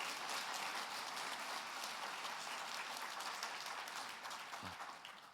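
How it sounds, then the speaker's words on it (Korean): A church congregation in Namyangju claps to welcome the visiting mayor, a sustained, fairly even round of applause that thins slightly toward the end, with a brief low thump near the close. "우리 크게 박수로 축복하겠습니다"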